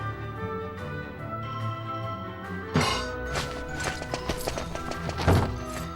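Horse hooves clip-clop steadily in Dragon Quest 8, with in-game music running underneath, followed by louder thuds and knocks toward the end.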